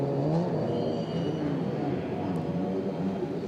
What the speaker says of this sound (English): Cars lining up on the grid.